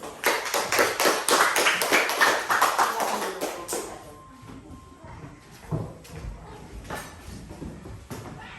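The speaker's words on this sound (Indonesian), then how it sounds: "Sekarang tepuk tangan untuk kelompok 1" Classroom applause for the first student group in an Indonesian class: a burst of quick, dense clapping for about four seconds that fades out, followed by scattered taps and room noise.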